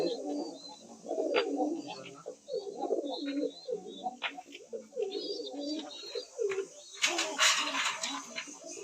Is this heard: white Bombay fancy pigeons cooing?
yes